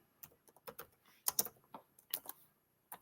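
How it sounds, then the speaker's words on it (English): Irregular clusters of computer keyboard keystrokes, close and crisp, typed in short bursts with brief pauses between them. "We're going to type in 2 Peter chapter 2, verse 3"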